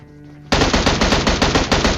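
Rapid bursts of loud automatic gunfire in a PUBG battle-royale match erupt after a brief musical tone, rattling in a fast steady rhythm.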